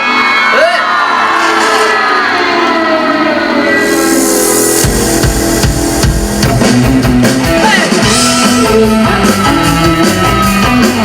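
A large outdoor concert crowd at a stadium in Qishan, Kaohsiung screams and whoops loudly and continuously over amplified music from a live Taiwanese singer's show, the cheering swelling into a dense, sustained roar.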